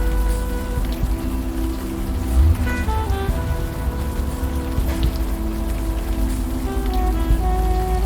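Rain in the Unavowed adventure game falls steadily on surfaces, a continuous wash of droplets under a low, sustained musical drone with soft tonal notes drifting in and out.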